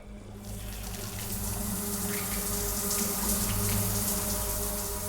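Hot, scalding shower water runs in a steady, unbroken rush, fairly close and evenly loud throughout, with no voices over it.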